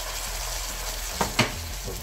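Vegetables frying in a pan for mixed vegetable khichuri, a soft steady sizzle with two brief stirring clatters near the end, close and alone.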